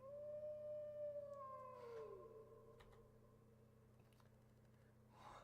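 Howling effect for Foxy the pirate, a single long wavering howl that slides downward and fades over a couple of seconds, leaving a low steady hum underneath.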